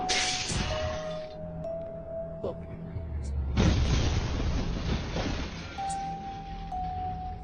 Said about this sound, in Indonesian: Ia juga meledakkan ruang kaca Shiro dengan sebuah bom.